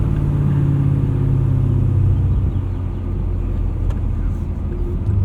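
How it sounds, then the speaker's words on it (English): Modified 2022 Camaro SS 1LE V8 rumbling loud and steady at close range, a deep continuous drone with slight shifts in pitch throughout. "I wonder what a modified SS1LE would sound like"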